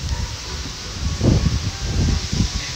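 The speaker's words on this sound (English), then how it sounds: "I don't like when the wind picks up" Wind gusting outdoors as a storm builds under a tornado warning in the Midwest, a steady broadband roar with low rumbling surges in the middle and toward the end, fairly close and moderately loud.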